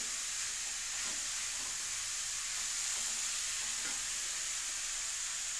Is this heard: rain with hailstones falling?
no